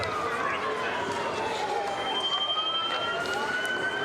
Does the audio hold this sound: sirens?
yes